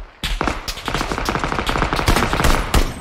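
Rapid bursts of gunfire from a first-person shooter video game, dense repeated shots at loud, close level, with several heavier blasts standing out near the end.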